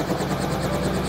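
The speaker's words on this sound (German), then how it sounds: "Wir fliegen mit dem Helikopter." A helicopter in flight gives a loud, steady rotor beat with a continuous whine, heard close up for a brief moment with no talking.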